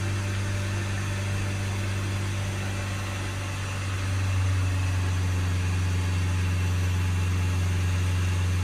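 Diesel engine of a Renault Trafic van held at raised revs during DPF regeneration, a steady droning hum that lifts slightly in pitch and loudness partway through, continuous and close with no talk.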